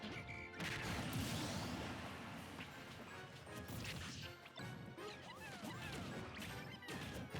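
Super Smash Bros gameplay in which an up smash strikes and breaks a shield, giving dense, loud crashes, whacks and hit effects layered over continuous game noise without pause.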